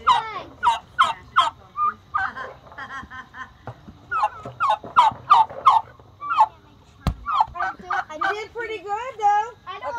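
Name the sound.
turkeys gobbling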